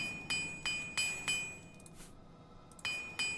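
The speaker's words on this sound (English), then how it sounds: "When your repair skill is quite low, you will break repair hammers a lot." Repair hammer strikes on equipment in the video game The Elder Scrolls IV: Oblivion, crisp metallic clinks each ringing out briefly, five evenly spaced taps, a pause, then two more, clean with no voices.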